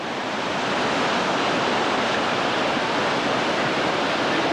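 Whitewater rapids on the New River in West Virginia roar as a steady, loud, broadband rush of churning water that holds at an even level for the whole stretch, with no voices above it.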